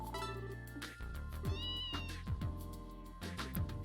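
A house cat meows several times in short, close calls of varying pitch, heard over tonal background music.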